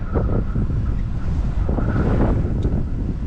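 Steady, loud wind from a blizzard on Montreal's south shore buffeting the microphone throughout, a continuous roaring rumble with gusty swells and no voices.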